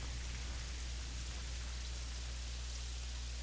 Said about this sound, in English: Man, I love just kicking back, watching that rain.